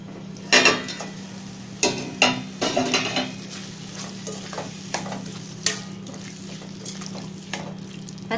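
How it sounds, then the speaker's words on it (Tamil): Tomatoes being mashed and stirred in a pan for tomato rice, with scattered scraping and tapping of a spoon against the pan over a steady low cooking hum, several louder knocks near the start. "தக்காளியை நல்லா இப்படி மசிச்சு விடுங்க"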